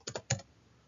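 Several crisp key presses on a computer keyboard while a folder name is typed, a quick cluster of three clicks, close and clear in a quiet room.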